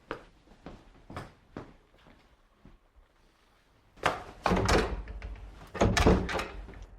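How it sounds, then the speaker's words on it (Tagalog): A door being tried but not opening: several knocking thunks and rattles, sparse at first, then a louder cluster of repeated rattling bangs near the end, close and without talk. "Akaiba, bakit hindi mabuksan ang pinto?"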